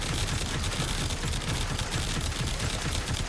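Rapid electric weapon fire from the Alternox gun in Warframe, a steady crackling, buzzing stream of shots that runs continuously, loud and close, with no pauses.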